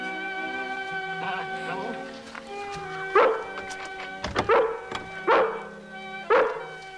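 A little puppy whimpers softly at first, then gives four loud, close yipping barks at uneven intervals over a steady tonal background.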